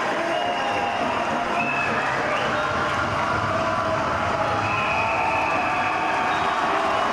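A university hockey crowd cheers without a break through the last seconds of a 6-1 win for York, a loud roar of mixed voices and noise with horns or whistles sounding over it.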